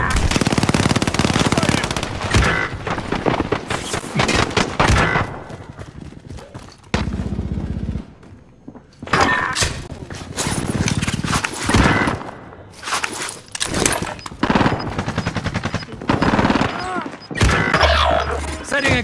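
Bursts of automatic gunfire crackle through a Warzone match, with rapid rattling volleys broken by short pauses. Radio-style voice callouts are heard between the shots.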